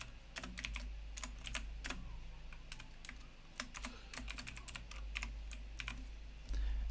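Someone types on a computer keyboard with irregular bursts of crisp key clicks, close and fairly quiet over a low hum, with no voices.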